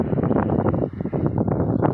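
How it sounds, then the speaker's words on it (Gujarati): Strong wind buffeting the microphone in continuous low, rumbling gusts, loud and close, with no voices. "પવન તો ફાસ્ટ છે"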